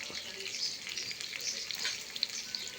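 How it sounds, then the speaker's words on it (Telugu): Potato pieces frying in a pan of hot oil alongside cabbage and beetroot, a steady close hiss and crackle with small pops throughout, unbroken across the whole stretch. "ఇది కొంచెం సేపు వేగనిద్దాం."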